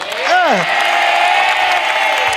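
A studio audience applauds a competing family on an Indonesian family survey quiz game show. A short rising whoop opens the clip, then a steady wash of clapping carries on to the end.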